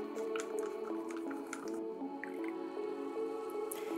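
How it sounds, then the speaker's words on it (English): Small amounts of water are dripped into an acrylic pour paint mixture with Floetrol, making soft, wet drips and squishy stirring sounds, close and quiet, with no talk. "I'm just adding a couple of teaspoons of water at a time."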